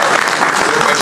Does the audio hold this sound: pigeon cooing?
no